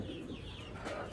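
Pigeons kept as pets give a brief, faint coo, soft and close, lasting only a moment.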